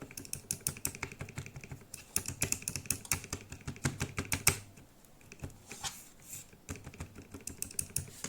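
Rapid typing on a lubed Royal Kludge RK61 60% keyboard, including its spacebar: dense, close, even clacks and thocks that slow and thin out near the end, with no voice.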